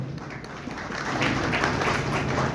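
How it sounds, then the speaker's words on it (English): An audience at a property launch event for a Delhi residential project claps in dense, steady applause that swells slightly and continues throughout. "Please, round of applause,"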